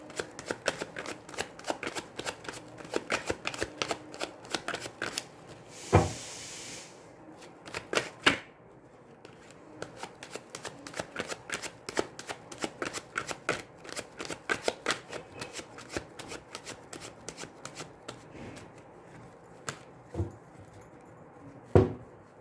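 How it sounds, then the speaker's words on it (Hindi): Tarot cards being shuffled and laid out, close crisp riffling and flicking in quick uneven bursts with occasional louder snaps and slaps as cards are set down, no talking. "पहले हम ऐसे कार्ड्स को रख लेते हैं, फिर हम सेट करते हैं इन्हें।"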